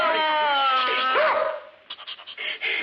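A dog whimpers and yips close up in a scene from a 1951 crime comedy film, a high whine giving way to a quick run of short sharp yaps.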